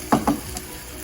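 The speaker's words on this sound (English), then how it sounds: "Give it a good stir." A spoon stirs Bolognese sauce in a sizzling pan, two quick scraping strokes up front followed by a softer third, then a low simmering hiss.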